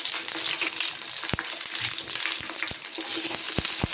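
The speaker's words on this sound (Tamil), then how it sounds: "எண்ணெய் ஊற்றி கடுகு போட்டாச்சு" Mustard seeds crackling and sizzling in hot oil for rasam, a continuous frying hiss with sharp pops scattered through it, heard close and without any talking.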